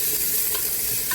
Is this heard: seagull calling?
no